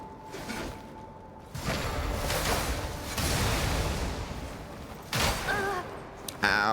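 Gunfire from a video game sniper rifle, heard as a few sharp bursts and rushing blasts spread across the span, moderately loud and mostly on their own, with a faint voice nearby.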